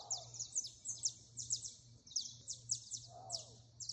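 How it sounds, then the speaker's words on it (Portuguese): A maned wolf calls far off, two faint, drawn-out barks near the start and end, over steady dawn birdsong with repeated high chirps and a low, constant hum. "Lobo guará vocalizando lá no fundo."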